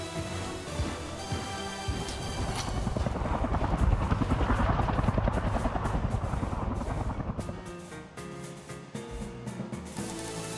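Helicopter in Front Mission 3 Remake passing with a loud rotor chop and turbine roar that swells to a peak midway and then fades, with a whooshing hiss throughout.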